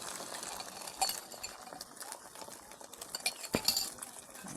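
Egg bhujia being stirred in a pan, light clinking and scraping of a utensil against the metal pan over a soft background sizzle, close and without talk.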